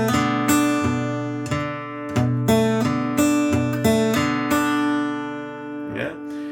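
Steel-string acoustic guitar playing a fingerstyle blues, with an alternating bass and a hammered-on note from the third finger over a held chord, ringing close and clear before a brief rustle at the end.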